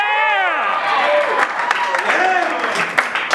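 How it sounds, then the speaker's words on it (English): Audience at a comedy show bursts into sustained applause mixed with cheers and whoops, a steady, dense wash of clapping from a nearby crowd that carries on throughout. "I think that deserves a round of applause."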